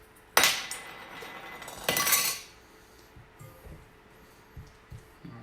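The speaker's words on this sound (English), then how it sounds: "I'm just gonna pop my jar open" A glass jar handled on a counter during homemade green cleaner mixing, two loud clinking clatters of glass and metal close up, followed by quieter scattered taps and knocks.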